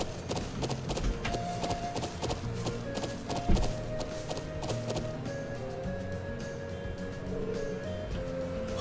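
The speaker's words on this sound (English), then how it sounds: "It's a horse, of course," Horse hooves clip-clop steadily in the video game Trails of Cold Steel, a regular rhythm of clear taps over a bed of game music, moderately close and even throughout.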